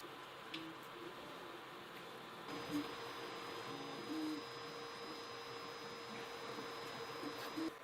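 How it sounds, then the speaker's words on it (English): A TEVOUP Tarantula Pro 3D printer running, giving a faint steady hum with soft stepper-motor tones and small whirring shifts, quiet and continuous with no talk. "We're here reviewing the Tarantula 3D printer."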